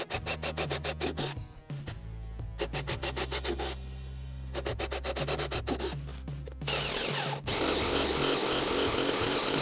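Power drill boring holes into the corners of a wooden bathroom cabinet, rapid rhythmic whirring bursts in several runs with short pauses, then a continuous steady grinding stretch, close and alone.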